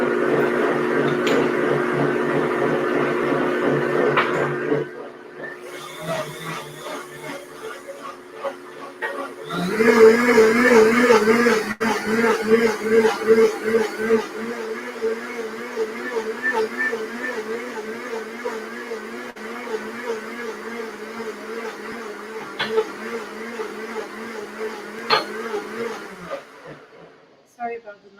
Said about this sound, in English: Now I'm going to blend this.